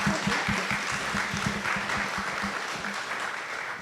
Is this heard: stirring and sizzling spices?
no